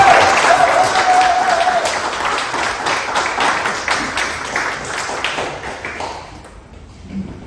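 An audience at an evening presentation on North Cobb train wrecks applauds a speaker, a loud burst of clapping that thins and fades out after about six seconds.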